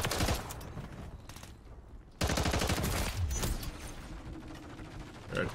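Rapid rifle fire from an SVA 545 in Call of Duty Modern War 3, loud, dense bursts of shots crackling in quick succession with a short lull near the middle before the firing resumes.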